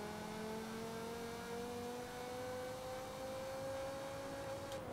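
Budget family cars launch in a drag race in Forza Horizon 5, engines revving and accelerating in a steady rising drone that holds at a constant level from start to finish, with no talk.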